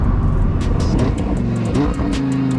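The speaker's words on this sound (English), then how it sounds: "The growl of a naturally aspirated engine," A Lamborghini Huracan Tecnica's naturally aspirated engine growls loud and close, a steady, deep, throaty drone with slight pitch changes and no talking over it.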